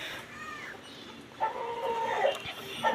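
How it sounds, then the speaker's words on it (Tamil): Backyard chickens cluck and a rooster crows in the background, a few short raised calls rising over a quiet steady ambience with no talking. "நம்ம கோழிங்க தான் பின்னால்னு கத்திட்டு கிடக்கானுங்க"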